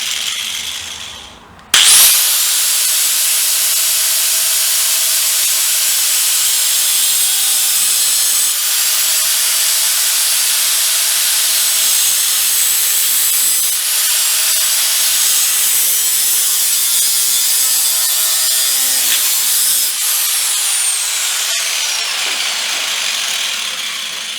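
Thin metal tubing is cut with a hand saw on a BSA 350 motorcycle build, giving a loud, continuous, steady rasping of saw strokes that runs almost unbroken after a sharp start.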